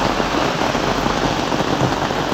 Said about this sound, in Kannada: ನೋಡ್ರಿ, ಮಳೆ ಬಂದ್ಬಿಟ್ಟಿದೆ